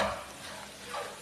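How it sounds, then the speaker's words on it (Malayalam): Fried fish being stirred into hot, sizzling pickle gravy for a Kerala fish pickle; a steady close sizzle with soft scraping stir strokes, no voices. "നന്നായിട്ട് ഇളക്കി മിക്സ് ചെയ്ത്"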